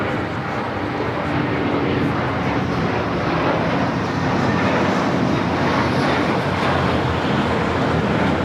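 An American Airlines jet, flight 1658 to Dallas–Fort Worth, rumbles at LAX, a loud continuous broadband engine roar that holds steady with no clear speech over it.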